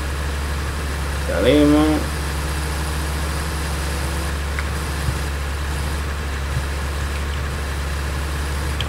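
A tractor engine idles steadily in Farming Simulator 2013, a low constant hum that carries on through the whole stretch while someone speaks briefly near the start.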